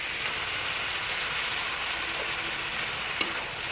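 Chicken masala stirred in a frying pan while cooking a village-style dry chicken kosha: a steady, soft frying hiss runs throughout with a single faint scrape or clink near the end.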